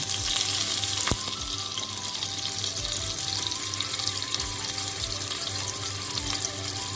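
Cumin, green chilli and asafoetida tempering fry in hot oil for a chicken dish with methi, giving a steady close sizzle with a few sharp pops and faint clatter, no talking.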